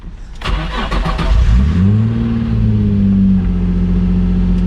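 A Nissan 350Z engine cranks briefly, catches and starts, then settles into a steady, smooth, quiet idle close by.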